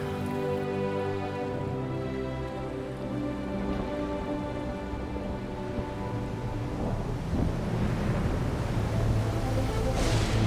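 Stormy sea with a gale blowing, waves crashing and rolling surf under steady wind and rain-like hiss, a low thunder rumble swelling toward the end; loud and continuous with no voices.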